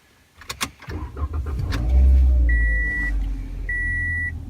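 A Toyota Corolla LE with a 1.8-liter 4-cylinder engine starts up: a short cranking whir catches into a steady, close idle, while two electronic dash chimes beep over the running engine.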